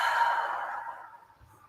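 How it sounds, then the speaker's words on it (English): A long, deep exhale during a guided meditation, a single breathy rush of air that starts strong and slowly fades over about a second and a half, heard alone and close. "Pausing at the top, and then a big exhale to release."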